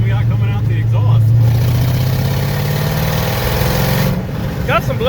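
A junkyard Ford Foxbody V8 running rough with missing cylinders rumbles loudly and unevenly at idle, a low stumbling drone that dips near the end, while people talk over it.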